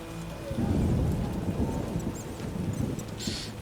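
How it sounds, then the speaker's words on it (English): Heavy downpour in The Witcher video game, a dense steady wash of rain with a low rumble, swelling early and holding through, with faint clatter and a brief high tone near the end. "A real downpour."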